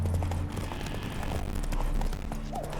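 Horse hooves clip-clop steadily as Geralt's mare Roach is spooked by ghosts in The Witcher 3: Wild Hunt, a continuous trotting patter under low game music and ambience.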